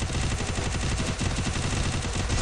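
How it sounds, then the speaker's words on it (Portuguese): Gunfire from the Free Fire video game rattles in rapid bursts, loud and dense through the whole moment, with no talk over it. "Deu um tiro nele."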